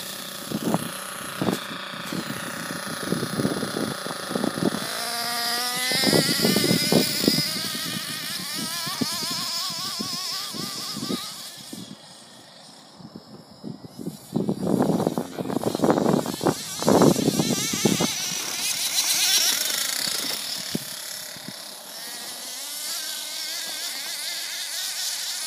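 A Mad Force Kruiser RC truck driving through snow, its electric motor whining and revving up and down in surges, with brief lulls and a few bumps and knocks, fairly close and with no speech.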